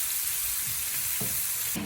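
Methi saag with bagun stirred in a hot pan: a constant frying sizzle with a few soft scraping strokes of the spoon, close and unbroken, no voices.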